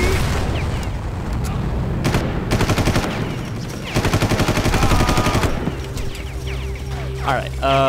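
Repeated bursts of automatic gunfire crackle and boom in a first-person military shooter set around an Israeli outpost, loud and close, with rapid rattling volleys and a voice present.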